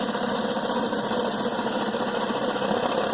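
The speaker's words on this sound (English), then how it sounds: "This surface cleaner will do about 4000 psi." A pressure washer surface cleaner running at about 1500 psi on a camper roof, giving a loud continuous close engine drone with a broad rushing hiss that stays steady throughout.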